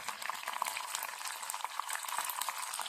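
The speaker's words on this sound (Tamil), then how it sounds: "கடுகு பொரிஞ்சிச்சு" Mustard seeds with urad dal and a broken dried red chilli in hot oil, a faint, dense crackling and popping that runs steadily throughout.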